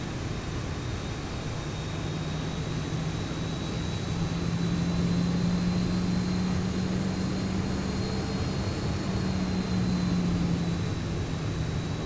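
A Boeing 737-800 airliner in X-Plane 12 rolls out after landing, a steady loud engine drone with a low hum that swells slightly midway, continuous throughout with no talk.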